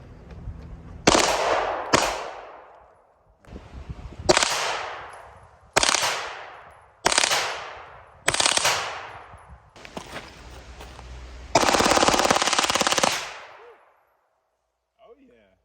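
Loud shots at an outdoor shooting range, about seven sharp blasts with echoing decays spaced a second or two apart, then a longer sustained roar of rapid fire before the sound cuts off.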